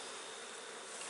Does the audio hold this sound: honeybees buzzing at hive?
yes